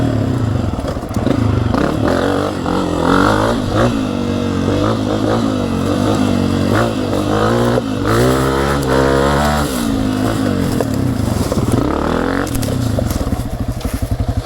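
A Honda CRF250F dirt bike rides continuously with a loud, close engine that rises and falls through revs and gear changes, with some clatter throughout.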